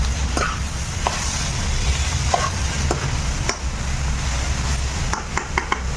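A pot of dal cooking on the stove is stirred, with a steady low bubbling bed and scattered scraping clicks of the spoon against the pot, plus a quick run of clinks near the end.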